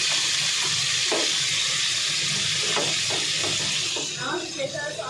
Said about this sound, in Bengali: এখানটা একটু সাদা তেল দিলাম, এর মধ্যে এবার পেঁয়াজ রসুন কুচি আর লঙ্কা যেটা ছিল কুচো করা ওটা দিয়ে দেবো